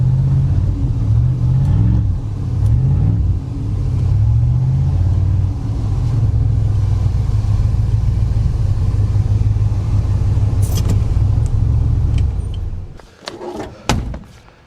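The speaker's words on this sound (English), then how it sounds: "Not the best time to be driving a giant classic around." A big classic Mercury Montclair, off the road for decades, drives through blowing snow with a steady loud low engine rumble for about twelve seconds before it drops away into a few thumps and clunks.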